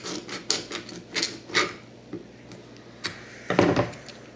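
A metal can, the cover for a simple butter candle, gets a slit cut into its side: a run of close, dry scraping and clicking cuts in uneven bursts, with one louder rasping cut near the end.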